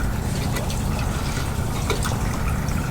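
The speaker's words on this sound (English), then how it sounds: "make sure it's not leaking out as you're pouring it in" Gasoline pouring through a spout extension into the fuel tank of a 1996 Ford E-350 van, a steady liquid trickle that runs continuously at close range with no talking.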